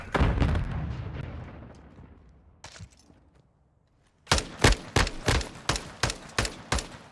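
M4 rifle gunfire in Call of Duty Modern Warfare 2: a heavy boom fades out first, then after a brief quiet comes a rapid string of about eight sharp, loud shots in an even rhythm.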